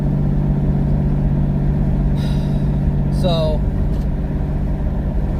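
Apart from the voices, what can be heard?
twin turbo V6 Mustang engine accelerating with turbo whistle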